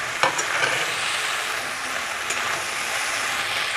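Dried red chilies sautéing in hot oil for a Bengali shukto with milk and poppy seeds make a loud, dense, continuous sizzle nearby, with a brief stirring clatter near the start and no speech.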